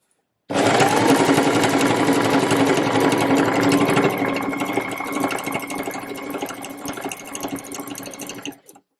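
A sewing machine stitches over a ladder-stitched seam on a reversible waistcoat, running in one steady, fast, close mechanical whir that eases slightly in the second half before stopping.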